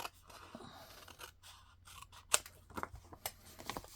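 Scissors fussy-cutting a paper panel for card making, the paper trimmed against the top blade: soft close snips and paper rustle in quick irregular bursts, with one sharper click partway through, quiet and alone with no talk.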